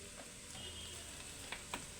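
Chicken noodles stir-fried over high flame in a pan give a soft, steady sizzle, with a few quiet scraping and tapping knocks from tossing and mixing.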